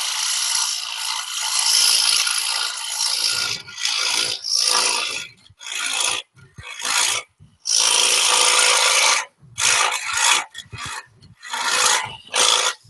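A hollowing tool cuts into a spinning wood burl Christmas ornament on a lathe, giving bursts of loud scraping and rasping that stop and restart in short, irregular passes, with no talk.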